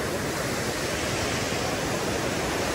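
Rushing water at Khandala dam roars close by as a dense, continuous wash that stays loud and unbroken from start to finish.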